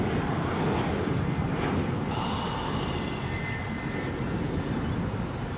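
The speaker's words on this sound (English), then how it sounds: "Hey, that's an A340. The unmistakable profile of an A340." Airbus A340 airliner at London Heathrow Airport, a steady broad jet engine roar heard from a distance, with a faint whine rising through it and some wind on the microphone.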